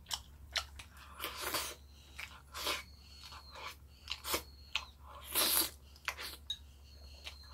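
Close, moist chewing and crunchy bites while eating meat in royal tteokbokki, a sweet Korean stir-fried rice cake dish, coming in irregular bursts with no talking over it.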